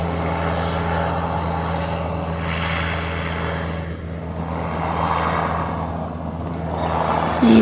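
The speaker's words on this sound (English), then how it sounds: "a helicopter comes by from the same direction that the ravens are now at" A helicopter passes somewhere overhead outdoors, its low, continuous engine drone rising and falling slightly as it moves across the sky, heard alone without talk.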